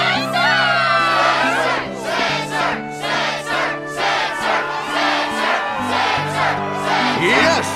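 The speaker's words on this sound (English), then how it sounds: "Yes, the crowd is fired up" A loud crowd cheers and shouts continuously, voices rising in repeated swells of excitement, at a struggle championship match in the video game Kingdom Hearts HD 1.5+2.5 ReMIX.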